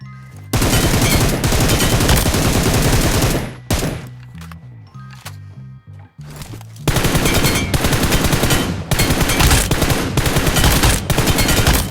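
Rapid automatic gunfire in PUBG Mobile at 120 FPS, loud and sustained in long bursts with a short quieter gap of scattered game sounds in the middle; nobody talks.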